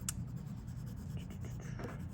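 Colored pencil strokes across paper to shade a tabby cat drawing, a close, continuous soft scratchy rubbing with faint back-and-forth rhythm.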